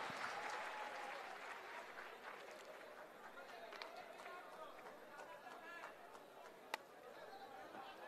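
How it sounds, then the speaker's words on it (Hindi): Audience applause at a literature festival event, steady dense clapping from a crowd across the whole stretch, with a murmur of voices underneath and one sharp louder clap near the end. "एक बार बिना कंजूसी के एक बार ताली बजा दें"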